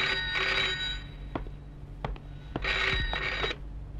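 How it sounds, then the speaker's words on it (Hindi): An old-style telephone bell rings in two loud bursts with a short pause between them, indoors in a Hindi film scene, with a few sharp knocks in between. "आ गया फोन।"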